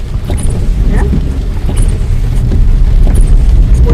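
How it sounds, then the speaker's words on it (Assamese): Steady, dense rain roars without a break, a heavy continuous wash of noise with occasional brief higher patters on top. "আজি একদম বৰষুণ নেৰিব আৰু পূৰা বৰষুণ কেনেকৈ বৰষুণ পৰিছে"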